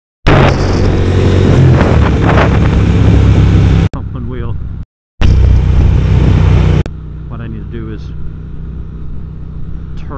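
A 2022 Triumph Speed Twin fitted with a new rear sprocket, ridden hard with loud engine revving and wind roar for several seconds, then a brief cut and quieter idling with a voice talking over it.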